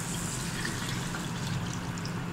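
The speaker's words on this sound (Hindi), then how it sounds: "हमने पानी डाल दिया है इसके अंदर" Water poured into a pot of beef karahi that was fried in ginger garlic paste. It makes a steady, soft, hissing splash that holds even for a couple of seconds, close by and fairly quiet, with no talking.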